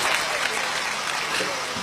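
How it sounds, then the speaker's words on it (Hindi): Brief burst of continuous audience applause at a public speech, dense and fairly loud from start to end, with a voice faintly underneath. "लगातार तालियां बजती रहनी चाहिए"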